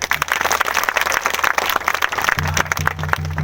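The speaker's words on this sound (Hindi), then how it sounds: "तो ताली बनती है आप लेके।" An audience claps together through a loud, dense run of applause at a religious gathering, with a faint voice partly audible underneath.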